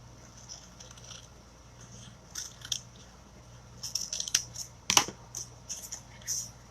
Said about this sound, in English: Let me cut these apart first.